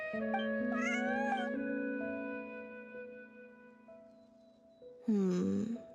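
A cat in the video game Genshin Impact meows twice, a drawn-out call followed by a shorter one a few seconds later, over sustained tonal game music.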